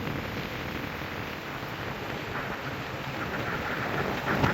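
Strong cyclone wind roars steadily across Jaffna in a dense, unbroken broadband rush that swells slightly toward the end, with no voices heard.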